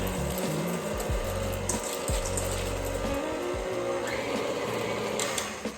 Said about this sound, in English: And then you whisk,